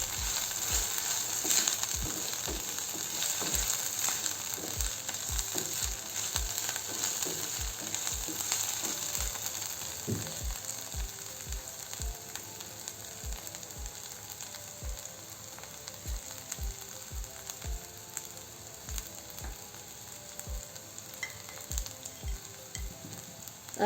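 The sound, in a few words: stirring sizzling filling in pan for aloo bonda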